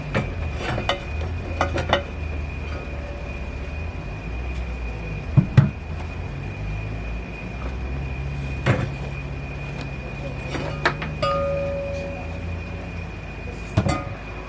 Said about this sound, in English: let's get these out of the pans